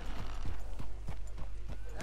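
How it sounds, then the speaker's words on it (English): Horse hooves clip-clop at a steady walking rhythm over cobblestone streets in Red Dead Redemption 2's Saint Denis, each hoof strike sharp and close against a low, constant ambient hum. "It's like even as your horse moves from wood to dirt to cobblestone,"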